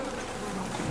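Flies buzz in a dense, continuous, close drone with no break, heard alone in a dirty area of the horror video game Twin Soul.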